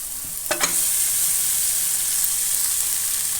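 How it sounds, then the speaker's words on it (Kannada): Cooked rice is tipped into a coriander tempering and stirred, with a couple of quick scraping knocks followed by a steady, close, airy hiss that continues evenly to the end. "ರೈಸ್ ಹಾಕ್ಬಿಟ್ಟು ಚೆನ್ನಾಗಿ ಕೈಯಾಡಬೇಕು, ಮಿಕ್ಸ್ ಮಾಡಬೇಕು."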